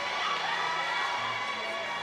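A high school gym crowd applauding and cheering after an a cappella national anthem before a volleyball match, a dense steady roar of clapping and voices.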